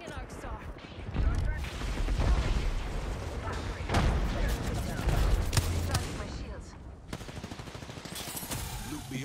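Sustained automatic gunfire in Apex Legends, a dense, loud stream of rapid shots with explosive booms that runs through nearly the whole stretch before a short lull.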